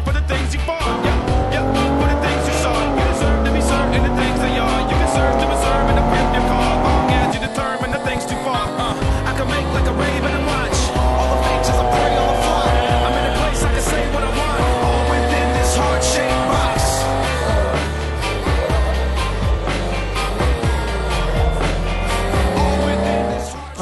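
A Nissan 370Z and a 300ZX with small turbos race side by side, engines roaring and rising through gears with tires squealing, loud and close for the whole stretch.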